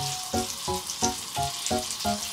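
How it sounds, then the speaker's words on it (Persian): Butter sizzling and foaming in a hot pan, a soft sizzle under a regular pulsing tone that repeats about every third of a second, close and quiet. "کره که قشنگ اینجوری کف کرد، کره‌ها کف میکنن دیگه"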